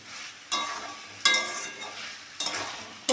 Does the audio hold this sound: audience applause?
no